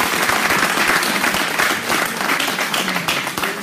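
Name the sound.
congregation applauding to acclaim the Lord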